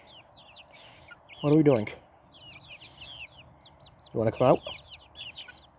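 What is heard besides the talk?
chicken clucking in a chicken tractor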